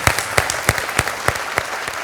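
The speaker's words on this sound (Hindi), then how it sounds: "चलिए चलिए ताली बजा के इनका हौसला बढ़ाते हैं." A small audience at a parents' business pitch session gives sparse, distinct claps, a handful of sharp hand strikes spaced irregularly over a couple of seconds with little else around them.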